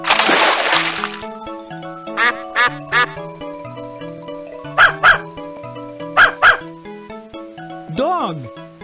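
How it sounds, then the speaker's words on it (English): Dog barks sound in the 2003 Muppet Babies: Animals in Nature PC game, several short cartoonish woofs in pairs over bouncy background music, with a voice near the start and a sliding tone at the end. "Dog."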